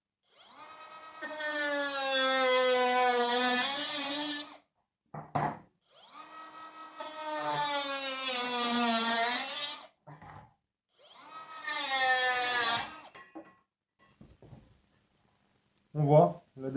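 A Ryobi ONE+ HP 18V brushless cutting tool makes three cuts through a metal stud and plasterboard, each a loud, high, whining cut of several seconds with brief clatters between.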